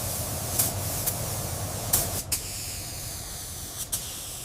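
A spray gun lays clear coat on a 1985 Mercedes-Benz 280 GE G-Wagon during restoration, giving a continuous close airy hiss broken by several short sharper bursts as the trigger is pulsed.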